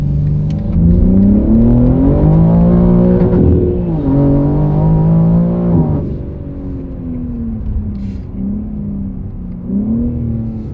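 A tuned BMW M3 G80 engine revs hard, rising in pitch through gears with a brief dip, then settles to a steadier lower drone, loud and close with no talk.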